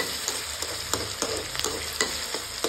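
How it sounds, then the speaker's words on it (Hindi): Onions sizzle golden in oil in a pan for palak paneer as tomatoes go in, a steady close fry with regular scraping stir strokes every few tenths of a second and no voices. "तो अब डाल देते हैं हम प्याज, और प्याज को बिल्कुल गोल्डन कर रही हूँ"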